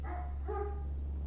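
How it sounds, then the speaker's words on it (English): A dog barks twice in quick succession, moderately close, over a steady low hum in the background. "I'm sorry for the barking, by the way."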